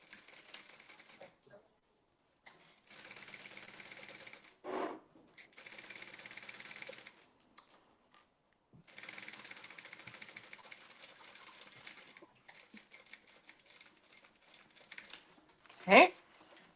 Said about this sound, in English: you're just gonna take this and you're gonna just top stitch across the top, and that's gonna keep it folded permanently